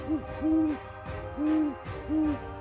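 Great horned owl hooting: a few deep, soft hoots spaced across the stretch, the first short and the rest longer and drawn out, moderately near with a calm, faint background.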